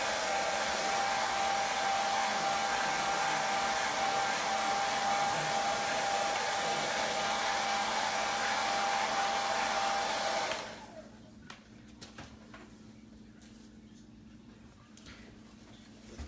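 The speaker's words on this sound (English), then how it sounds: "This is just a low temp hair dryer." A low-temperature hair dryer blows a steady, loud, close whoosh for about ten seconds, drying a chalk-decorated baby outfit, then cuts off abruptly, leaving quiet room sound.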